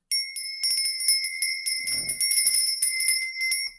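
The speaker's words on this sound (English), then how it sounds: "let me ring the bell first" A small bell rung repeatedly in quick, bright, ringing strikes that overlap and sustain, clear and close, with no talking.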